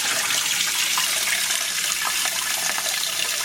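Rice being rinsed by hand in water to wash out the starch gives a steady, close wash of splashing and swirling water that runs unbroken, with no voices.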